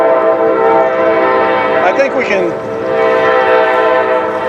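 A passing train near an outdoor campaign gathering in Lincoln, Illinois, sounds a long, loud horn blast that holds for several seconds, while someone briefly speaks over it.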